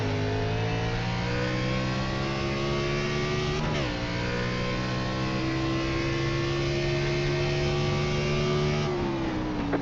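Race car engine in a racing game droning steadily under throttle at the Circuit of the Americas, a loud sustained tone that dips with a gear change and then climbs slowly again, without talk.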